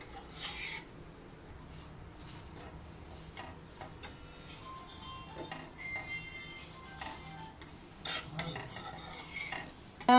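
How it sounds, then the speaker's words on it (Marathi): Ghee sizzles on a puran poli in a hot pan, a steady, soft frying hiss with scattered scraping and clinks of a spatula, close and alone without talk. "त्याच्यात मी तूप टाकते."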